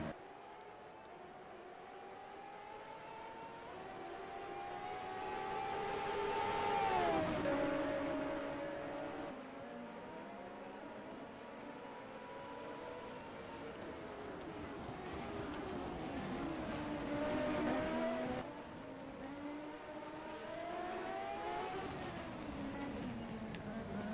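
CART race cars on March chassis, racing in the 1987 Long Beach Grand Prix street race, with engine whines that rise and sweep in pitch as cars pass, swelling louder twice, under commentary talk.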